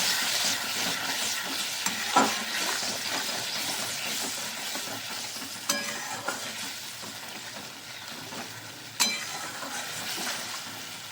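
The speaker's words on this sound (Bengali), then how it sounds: "এবার একটু জল দিয়ে দেবো এবার একটু ভালো করে কষিয়ে নেব" Pointed gourd and prawn curry fries and is stirred in a pan, giving a dense continuous sizzle with occasional spoon scrapes and light clinks against the metal, up close and steady throughout.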